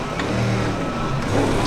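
Simulated car engine from a racing simulator game on the Professional Evolve Motorsport 6 rig, driven slowly onto the track: a steady low droning hum with faint tonal whine, continuous and fairly loud throughout.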